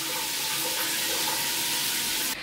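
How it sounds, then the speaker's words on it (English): A home shower runs steadily, a close, continuous hiss of spraying water that holds evenly and then drops off abruptly near the end. "But yeah, shower's on."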